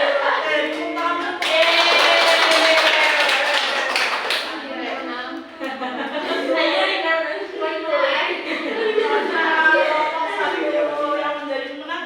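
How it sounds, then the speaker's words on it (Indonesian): A classroom of students claps for the competing groups, a burst of dense clapping mixed with children's voices that fades into chatter. "Oke, tepuk tangan."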